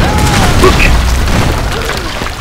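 A grenade goes off in the 2013 Tomb Raider video game, a deep booming blast that rumbles steadily through the brief moment, loud and close, with a voice faintly present underneath.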